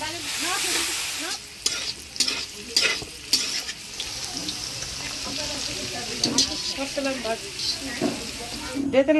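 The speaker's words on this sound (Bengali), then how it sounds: "ক্যাপসিকাম, গাজর, বিনস ভেজে নিব" Capsicum, carrot and beans frying in a pan for fried rice, a loud, close sizzle under brisk, repeated stirring and scraping, with faint background voices in places.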